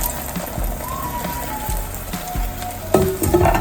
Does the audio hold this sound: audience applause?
no